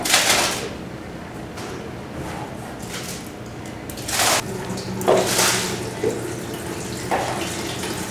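Free-run juice from about 200 pounds of California Zinfandel pulp pours out of a basket grape press, a wet, steady trickle and splash with a few brighter gushes and small clunks nearby.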